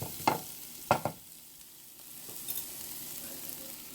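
Asparagus spears cooking in a hot pan, a soft steady sizzle with a few sharp scraping knocks early on as the spears are pushed and spread out, then quieter frying.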